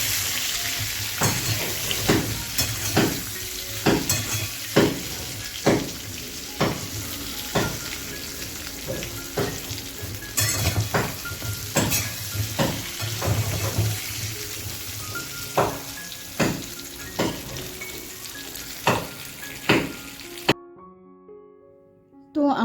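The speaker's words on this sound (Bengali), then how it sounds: "এখানে পটল আলু তরকারির হচ্ছে পটল ভাজছি" Pointed gourd and potatoes frying in a pan, a steady sizzle broken by repeated sharp clatters of stirring, close and fairly loud, stopping abruptly near the end.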